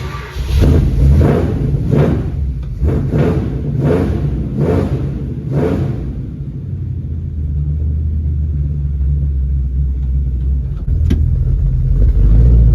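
Engine of a 1963 Dodge Dart convertible on a daytime test drive after 21 years off the road, with ignition timing unchecked: a loud, steady low rumble, with rhythmic thumping pulses over the first half.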